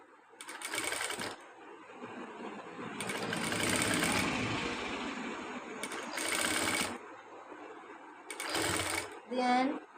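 A sewing machine stitches fabric for a nighty frock in several whirring runs of a few seconds each, separated by short pauses, while someone talks between and over them.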